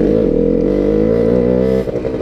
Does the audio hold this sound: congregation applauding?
no